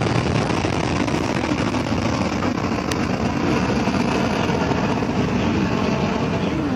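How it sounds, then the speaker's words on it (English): A continuous, dense roar of an H-IIA rocket launch with solid boosters, broad and rumbling with steady loudness, no voices over it. "Solid boosters are ignited."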